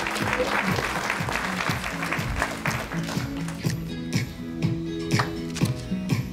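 An audience at an awards ceremony honoring young winners breaks into sustained applause, dense clapping filling the hall before gradually thinning out.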